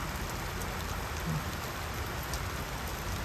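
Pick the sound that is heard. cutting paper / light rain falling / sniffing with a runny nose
light rain falling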